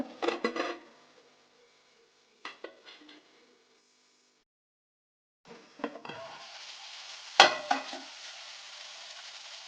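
Capsicum (bell pepper) frying in oil for a North Karnataka-style capsicum gojju, with a few clattering knocks early on, then a steady close sizzle broken by a sharp utensil clank.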